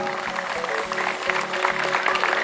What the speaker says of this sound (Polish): Wielkie brawa dla pana Mirosława.